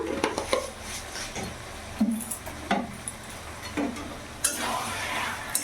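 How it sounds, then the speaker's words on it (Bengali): A spoon scrapes and knocks against a pan while a fish-head and spinach-stem curry is stirred, with intermittent clinks and scrapes over a soft background sizzle, close and fairly quiet. "ভালো করে নাড়াচাড়া করে মিশিয়ে নেব"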